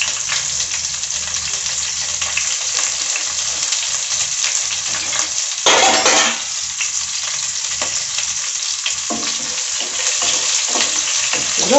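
Onions and vegetables fry and sizzle in a pan for Nellore-style vankaya (brinjal) pulusu while being stirred, a steady close hiss with a brief louder surge midway, and no voices.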